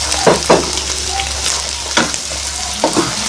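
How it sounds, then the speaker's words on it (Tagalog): Mushrooms, onion and garlic sautéing in a pan for a creamy carbonara sauce, a steady close sizzle with a few sharper bursts of stirring or spatula scrapes. "dapat ginigisa natin guys yung mushroom, yung sibuyas, bawang"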